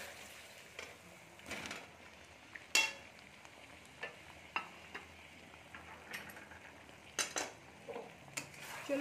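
Potatoes frying and stirred in a pan while making Kashmiri aloo dum, with quiet sizzling throughout and scattered clinks and scrapes of a utensil against the pan.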